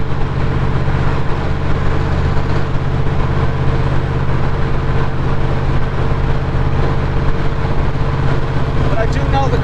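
Shelby Cobra replica with a 331 stroker V8, a 302 Mustang GT engine with stroker kit and cam, running at a steady low rumbling idle, loud and close throughout.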